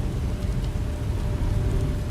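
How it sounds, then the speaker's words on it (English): Steady rain falling in the Beast of Reincarnation video game, a dense continuous hiss with low rumbling beneath, close and unbroken. "More rain."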